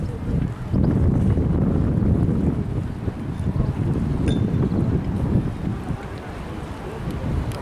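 Strong wind buffets the microphone by the Main river in Frankfurt, a constant low roar and gusting rumble, steady throughout.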